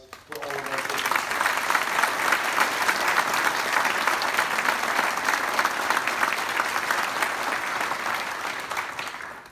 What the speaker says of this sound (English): So how about a nice round of applause for all of our students?